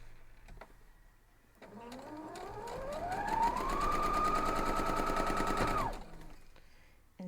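A sewing machine stitching strawberry patch quilt block pieces revs up with a rising whine, then runs at a steady, fast, close-up mechanical buzz for a few seconds before stopping abruptly.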